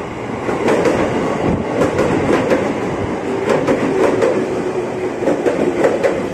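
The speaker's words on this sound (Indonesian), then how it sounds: "komuteran tujuan Manggarai datang deh. JRS 205 series 12 kereta." A 12-car JRS 205 series commuter train bound for Manggarai rolls into a station platform near a closed level crossing, with a steady, loud rumble of wheels and cars and faint rhythmic rail clicks throughout.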